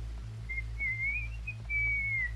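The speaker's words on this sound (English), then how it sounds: "I can whistle." A character in Red Dead Redemption 2 whistles a short, wavering tune of a few sustained notes over a steady low background hum.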